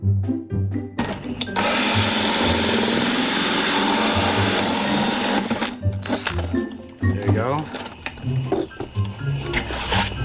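A power drill bores a hole in a plastic pigeon auto-feeder with a loud, sustained whine for about four seconds, followed by shorter bursts and handling clatter.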